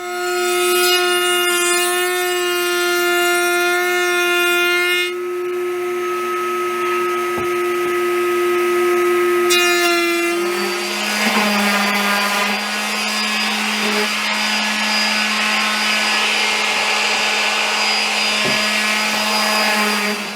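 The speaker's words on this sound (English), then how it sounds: "I'm going to take this to the router table and I'm going to bevel it" A router table cuts a bevel along a wooden piece for a DIY patio cooler, giving a loud, steady high-pitched whine that shifts in pitch partway through, continuing without a break for about twenty seconds.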